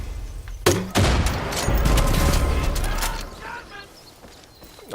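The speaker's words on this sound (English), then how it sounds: "So this is a grenade launcher." Grenade launcher firing in the Far Cry 5 video game: two sharp launches followed by a loud rumbling explosion that swells and fades over a few seconds.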